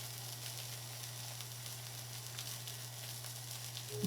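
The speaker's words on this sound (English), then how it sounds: "Saute. these onions until they start to soften up" Onions sauté in olive oil in a pan, a quiet, even sizzle running throughout over a steady low electrical hum, with a brief clunk right at the end.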